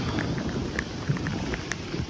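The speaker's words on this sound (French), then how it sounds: "ça n'arrête pas de pleuvoir, il pleut comme ça pratiquement depuis 3 jours" Heavy rain pouring steadily in Medina, Saudi Arabia, a dense, continuous hiss with scattered brighter drop impacts throughout, fairly close and alone without voices.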